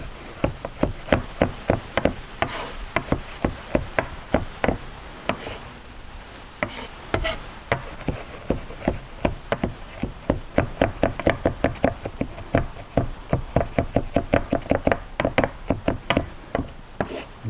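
A knife minces garlic on a cutting board with rapid, repeated sharp chopping knocks. The rhythm is uneven, with short pauses, then it speeds into dense flurries of close taps.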